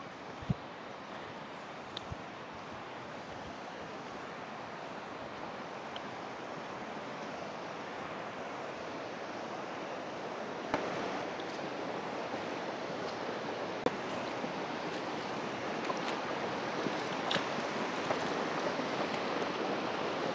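The long Pagsanhan River flows with a steady, broad rushing wash, constant and fairly distant, with occasional small clicks and no talking.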